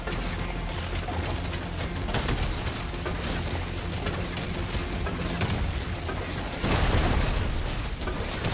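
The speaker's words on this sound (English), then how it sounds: "Would you guys say the explosions are the best part?" Continuous barrage of explosions in the video game Deep Rock Galactic: Survivor, dense overlapping booms and bursts with a louder surge late on, no voices.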